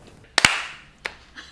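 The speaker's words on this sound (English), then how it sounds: "a resounding clap" A loud, close double hand clap, cracking like a cap gun and used to sync film footage at Silo Theatre. A fainter single clap and a soft sound follow in a quiet room.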